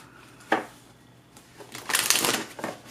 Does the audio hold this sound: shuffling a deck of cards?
yes